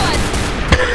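Gunfire in Left 4 Dead rattles as rapid overlapping shots, with a single louder crack standing out near the end of the short burst.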